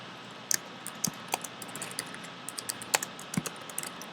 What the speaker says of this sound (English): Let me finish typing